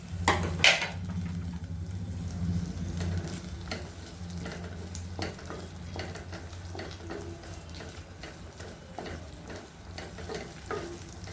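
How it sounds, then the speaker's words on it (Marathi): Garlic and ginger frying in a pan at a food stall, a soft steady sizzle with a sharp clatter near the start and scattered light utensil scrapes, close and without talk. "पहिल्यांदा मी लसूण आणि आलं घालते आहे"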